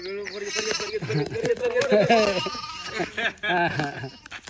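A lamb bleats several times in quick, wavering cries, close and loud, with a person talking nearby between and over the calls.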